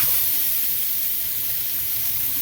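Turducken skin sizzles in a hot 16-inch cast iron skillet, a steady loud hiss and crackle of rendering fat that continues without pause, close up and without any talking.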